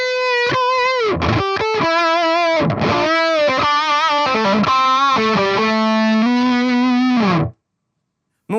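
Heavily distorted electric guitar through a Mooer Little Tank D15 modeling amp plays a sustained lead line with bends and held notes, loud and alone, cutting off abruptly near the end.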